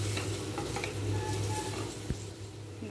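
Onions sautéing in a pan for mutton biryani, a soft steady sizzle with a spoon stirring and scraping, close and moderately quiet, with a low hum underneath.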